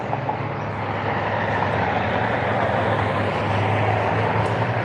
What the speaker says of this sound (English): the next one's coming from Minneapolis on an Airbus A220, Delta Airlines